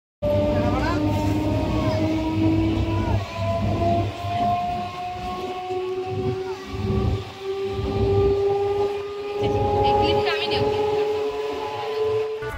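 Interior of a moving passenger train, a loud continuous rumble with rhythmic rattling of the carriage and long steady tonal drones, heard up close with voices talking over it.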